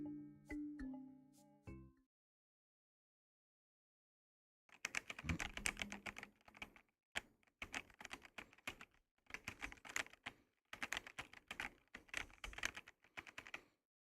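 Bursts of typing on a new metal-case computer keyboard, fast clacking keystrokes in several runs broken by short pauses, close and clear, following a few quiet electronic tones at the start.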